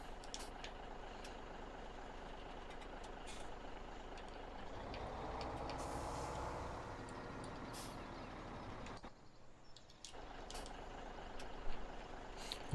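Dump trucks idle and load gravel in Farming Simulator 17, a steady diesel rumble with a swelling pour in the middle, a brief drop, then the engine noise returning with a clank.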